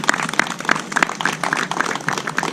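An outdoor audience at a college student services center groundbreaking ceremony applauds, a continuous clatter of clapping with some sharper individual claps standing out nearby.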